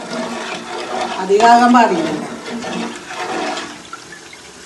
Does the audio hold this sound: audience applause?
no